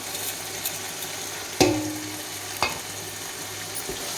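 Tomatoes fry in a pan of oil for Dindigul chicken biryani, a steady close sizzling hiss broken by two sharp stirring clacks of a spoon against the pan.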